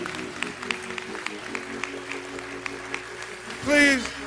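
An audience at a George Floyd memorial gathering claps in scattered, moderate bursts, then a voice rises loudly near the end.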